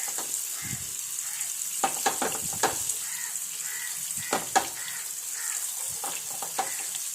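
Jackfruit pieces coated in spice paste and fried like chicken in a pan, a steady crackling sizzle with occasional sharper pops and stirring knocks, close and without talk.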